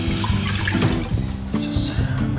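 Tap water runs steadily into a sink as fish is rinsed of slime, splashing and gurgling up close throughout with shifting flow as the fish is moved under the stream.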